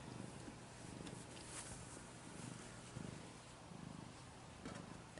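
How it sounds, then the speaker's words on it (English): Stray cat purring steadily in a soft, rhythmic rumble, close and fairly quiet, with no talk over it. "Another stray cat that showed up."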